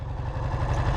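A 1965 Triton motorcycle engine idles slightly high after warming up, a steady close low rumble with no gaps and no voices.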